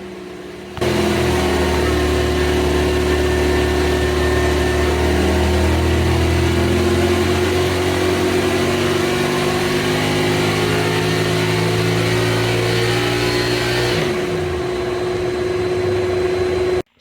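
A 489 cubic inch big block Chevy V8 running a warm-up pull on an engine dyno, sweeping steadily upward from 4,500 to 7,000 rpm as a loud, continuous rising roar that drops off abruptly near the end.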